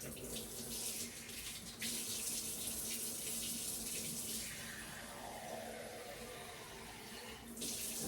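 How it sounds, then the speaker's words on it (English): Warm water runs steadily from a tap into a container, a continuous splashing stream with a brief shift in tone partway through. "So to this, I'm going to add the warm water."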